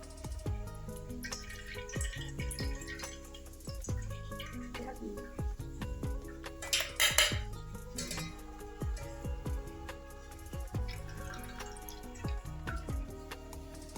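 Mashed pani puri water is strained in a kitchen, with soft dripping, trickling and splashing of liquid through a strainer. The drips and splashes recur irregularly with a louder burst midway.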